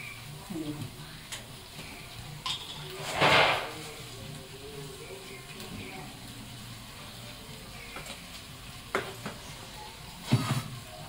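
Curry leaves and onions sizzling in hot oil for biryani, a soft steady frying hiss with occasional stirring clinks, under quiet room sound.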